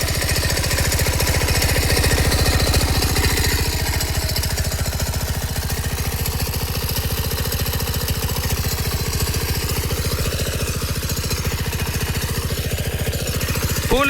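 A motor machine runs loudly and continuously alongside a second machine, a dense, rapid mechanical chatter with a steady engine drone that holds even throughout.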